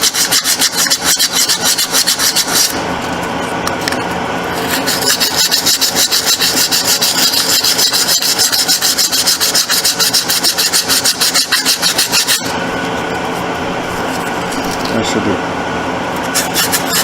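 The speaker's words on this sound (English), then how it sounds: "Light sandpaper." Light sandpaper rubs over a part from a 1989 Suzuki RMX 250 vintage dirt bike during an ignition stator replacement, giving close, continuous rapid rasping strokes that run steadily with only brief pauses.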